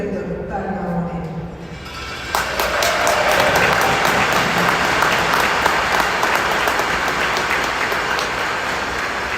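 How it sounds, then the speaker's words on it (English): A crowd applauds at a community event's opening ceremonies. Dense, loud clapping swells in after about two seconds and carries on steadily, following a quieter stretch at the start. "Big round of applause for that ginormous contribution to such an amazing event happening here in our community."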